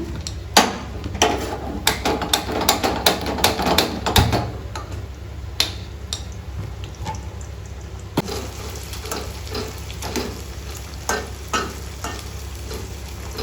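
Okra (bhindi) fries in a pan with a continuous sizzle and frequent sharp knocks and scrapes of a utensil against the pan. The sizzle is prominent at first, then eases into steady frying, and no one speaks.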